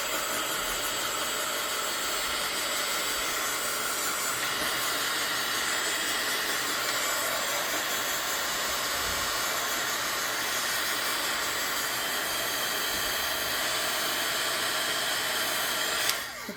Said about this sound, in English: We have a heat tool.